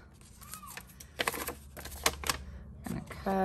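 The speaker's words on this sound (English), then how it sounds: "We're gonna cut this with the scissors." Scissors snip through masking paper with its backing removed, giving a few close, crisp cuts in quick succession at a moderate level.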